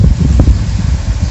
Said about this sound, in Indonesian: Angin sepoi-sepoi deh.